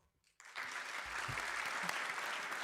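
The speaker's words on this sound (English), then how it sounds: "Wielkie brawa." Applause from the audience at a formal university senate session for a jubilee, breaking out suddenly after a near-silent moment and continuing as an even patter of many hands, fairly quiet overall.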